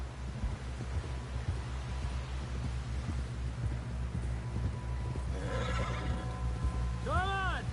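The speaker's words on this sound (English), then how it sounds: "Someone help John down off this horse." A horse in the Red Dead Redemption 2 video game neighs loudly near the end, a rising and falling whinny over a steady background of game ambience and hoof movement.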